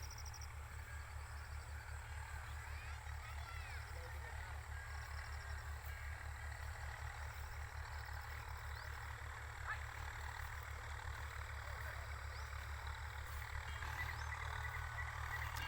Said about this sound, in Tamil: வண்டி ஓட்டுற சத்தம் கேட்குது.